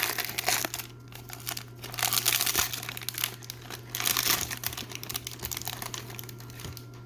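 Foil wrappers of 1991 O-Pee-Chee Premier baseball card packs torn and crumpled open, a continuous close crinkling and rustling in several loud bursts over a low steady hum, no talking.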